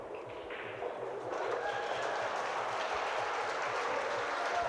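Crowd at the 2023 US Open Pool Championship swelling into applause and cheering, starting moderate and growing louder after the first second, a continuous distant roar in an arena.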